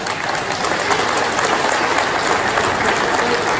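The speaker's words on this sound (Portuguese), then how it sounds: "uma grande salva de palmas para eles" Steady applause from a crowd at the 16th anniversary celebration of the Associação Agualva de Cima, honoring the association's work team. Dense, continuous clapping holds at an even level throughout, with no voices standing out.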